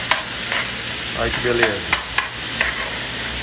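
Black-eyed peas sizzle in a frying pan with a few sharp clinks and stirring scrapes over a steady hiss, while a person speaks briefly.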